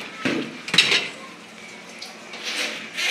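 Dishes and cutlery clatter in a home kitchen as they are put away, a few sharp clinks and knocks at the start, then quieter shuffling and another soft rattle near the end.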